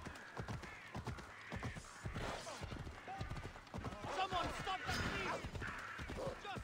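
Horse hooves clip-clopping in the video game Assassin's Creed Odyssey, a repeated close and fairly loud rhythmic hoof beat with occasional game sounds and someone talking over it.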